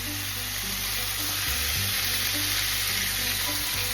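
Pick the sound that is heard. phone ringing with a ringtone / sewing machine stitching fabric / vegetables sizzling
vegetables sizzling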